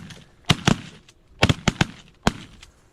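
Guns fire during a hunt: about seven sharp, loud reports come in quick clusters of two and three, one after another, each with a short echoing tail outdoors.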